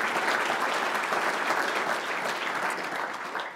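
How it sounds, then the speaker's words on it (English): An audience applauds at the 2017 Lott IMPACT Trophy presentation. The clapping is dense and sustained, full and close, and tapers a little near the end. "I think he deserves a round of applause."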